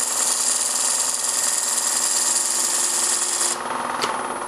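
An Easy Wood Tools rougher's corner shears wood spinning on a lathe, a continuous bright hissing scrape that holds steady, then eases slightly near the end with a short sharp tick.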